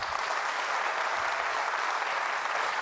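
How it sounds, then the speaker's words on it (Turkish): Studio audience on a Turkish quiz show claps in dense, even applause, a steady, fairly loud roar of many hands with no pauses throughout. "güçlü bir alkış bekliyorum"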